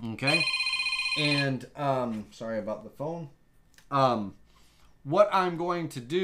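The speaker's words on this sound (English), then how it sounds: "sorry about the phone" A telephone bell rings in a room during a bottle opener making session, a bright repeated ring lasting about a second near the start, with someone talking steadily before and after it.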